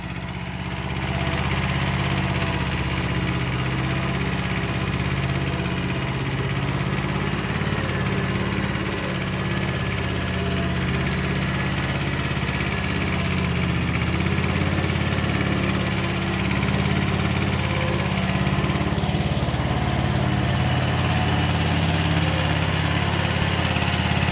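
A Kubota B5001 tractor engine runs steadily and loudly throughout, a constant low rumble with slight rises in intensity, no voices heard.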